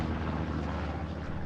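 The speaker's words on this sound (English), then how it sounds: "Oh god, the plane sound." A propeller airplane drones overhead in Hell Let Loose on Utah Beach, a steady, moderately loud low engine hum that fills the moment without breaks.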